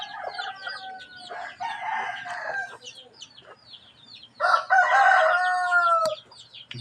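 A black chicken crows and clucks near a house, with loud drawn-out calls in two bursts and quieter clucking and cackling between them.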